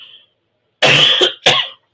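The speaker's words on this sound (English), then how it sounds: "I've got to have a cough" Two harsh coughs close to the microphone, a longer one followed by a shorter one, with silence around them.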